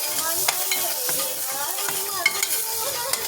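Small onions and garlic sizzling in oil with cumin seeds, peppercorns and chili, a close, steady hiss broken by crackles and scraping stirs.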